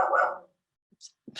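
A dog barks nearby during an indoor talk on motherhood and childbirth: one short, loud burst, then a pause and a few quick, fainter yips, with a speaker's voice briefly heard.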